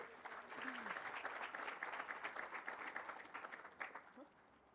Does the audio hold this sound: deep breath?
no